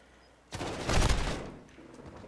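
Video game gunfire: after a quiet moment, a sudden burst of rapid, overlapping shots rings out loud and close for about a second, then fades into a decaying rumble.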